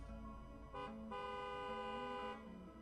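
A car horn honks in several sustained, slightly wavering blasts, one long blare overlapping shorter toots, loud and close with no talking.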